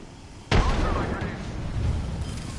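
A frag grenade in Apex Legends explodes with a single loud, close blast, then a long rumbling decay trails off under steady game noise.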